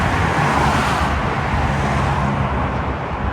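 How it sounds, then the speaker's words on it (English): A Ford F250 with a 7.3 diesel, its fuel tank straps broken, cruising on a highway, giving a steady broadband road roar and rumble from inside the cab without any speech. "Highway, truck's making a weird sound."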